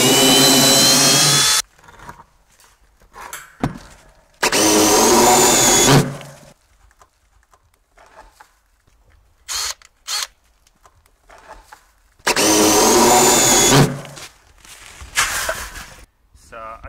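A power tool bores out and enlarges a hole in a wooden hay rack on a goat farm, running in three loud, close bursts of a couple of seconds each, separated by quieter handling knocks and clatter.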